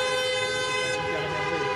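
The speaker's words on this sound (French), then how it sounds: "les klaxons retentissent." Car horns blare steadily from stopped traffic on the Paris ring road at night, a dense sustained tonal chorus with no gaps, loud and close.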